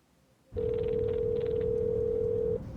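A telephone tone starts abruptly after a moment of quiet and holds as one long, steady, loud tone for about two seconds, then cuts off.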